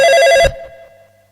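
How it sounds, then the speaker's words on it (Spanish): A telephone bell rings loud and close on a football radio call-in show, then cuts off abruptly after half a second, leaving a fading hum. "Teléfono"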